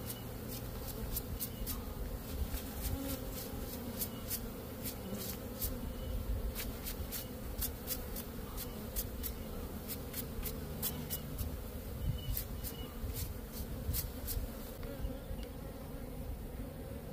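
Honey bees buzz densely and close around a queen-rearing frame as they are brushed off, a sustained swarm hum broken by many short sharp brushing ticks.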